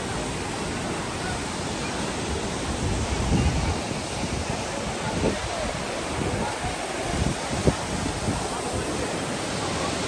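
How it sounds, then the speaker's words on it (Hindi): Water at Matunga waterfall roars in a dense, unbroken wash that fills the whole scene, loud and close with no pauses, with faint brief thumps beneath. "फाइनली हम मटुंगा वाटरफॉल पे पहुंच गए हैं और रश आपको दिखाते हैं।"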